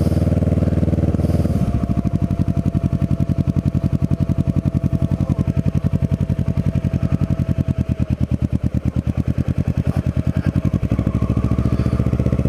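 A Kawasaki Ninja 650R motorcycle rides along Atlantic Avenue through the Wildwoods, its parallel-twin engine pulsing in a loud, steady, close throb with slight rises and falls in revs.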